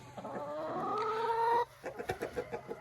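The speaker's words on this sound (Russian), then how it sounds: "а куры ходят здесь" Chickens cluck in an open enclosure beside their coop: a loud, steady run of overlapping calls gives way to short, separate clucks that come and go.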